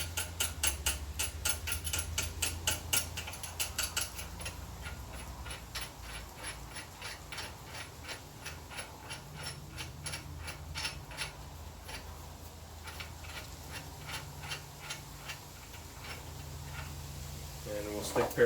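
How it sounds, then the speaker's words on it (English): A wrench ratchets a nut down in rapid repeated clicks, close and fairly faint, with steadier clicking bursts continuing through the clip on a second-generation Ford Explorer lift kit job. "So we'll just get this nut zipped down here."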